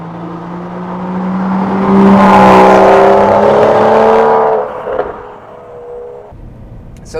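A turbocharged BMW 435i engine swells as it accelerates, its rising whine and roar peaking loudly midway before easing off and dropping to a lower drone.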